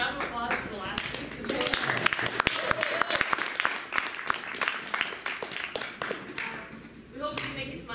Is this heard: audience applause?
yes